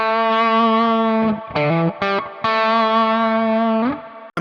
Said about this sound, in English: I just add the overdrive.